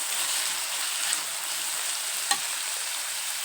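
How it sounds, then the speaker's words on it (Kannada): Chopped onion and small green chillies fry in a pan with a steady, close sizzle and one sharp stirring clink partway through, no talking. "ಈ ಥರ ಸ್ವಲ್ಪ ಫ್ರೈ ಆಗಲ್ರಿ. ಇದು ಫ್ರೈ ಆಗತ್ತೈತ್ರಿ."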